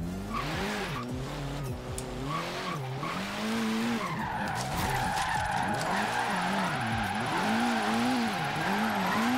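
Ford Focus RS drift build in a racing video game, its tires squealing loudly and continuously while the engine revs and warbles underneath throughout.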